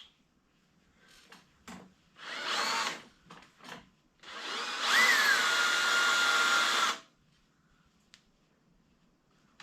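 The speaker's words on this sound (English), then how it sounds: "I'm tipping the drill a little bit to try to get the exact center by eyeball" A power drill drills into a stripped Honda GL1200 rear shock mount, whirring in short bursts, then running in one long steady whine for a few seconds before stopping, close and loud.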